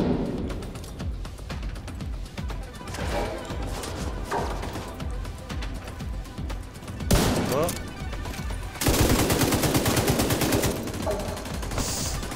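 Rapid gunfire in The Division 2, with sniper rifle shots among it: bursts of loud cracks and heavy impacts, a sharp louder volley near the end, with background game noise throughout.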